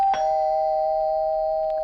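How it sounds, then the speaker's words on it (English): A doorbell chimes once near the start, then a steady electronic tone rings on and holds, clear and close. "My doorbell rang."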